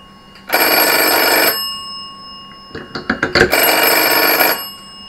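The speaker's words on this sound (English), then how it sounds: "So you'll hear this black phone ring." A vintage Dutch telephone bell rings loud and close through an internal phone system, two long sustained bursts separated by a short run of rapid clicking strikes, with no talking.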